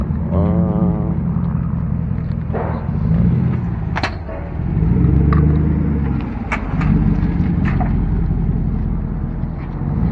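A car engine idles roughly and unevenly, a loud low rumble that surges and dips throughout, with a few sharp clicks and knocks over it.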